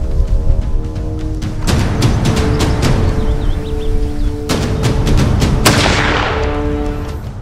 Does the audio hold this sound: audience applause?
no